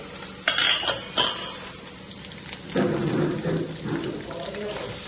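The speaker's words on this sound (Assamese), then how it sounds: "চাইছোঁ ভাজি নাই সেইকাৰণে বনাই আছোঁ অকণমান ভাজি" A vegetable bhaji fries in a pan with close sizzling and a few stirring scrapes over about five seconds, with a brief burst of louder hissing partway through.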